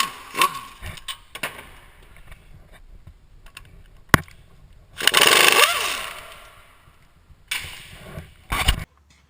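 Hub retaining bolts are loosened on a Dodge Ram, with scattered mechanical clicks and taps, then a loud buzzing tool burst of about two seconds and a shorter burst near the end, all close by.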